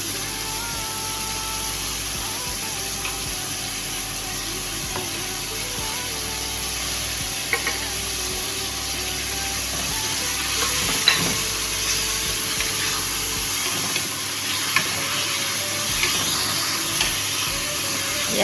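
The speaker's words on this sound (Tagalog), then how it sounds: "Yan, saute lang natin" Tomatoes, spices and canned tuna sautéing in a pan, a moderate steady sizzle and hiss with a few faint clinks of stirring.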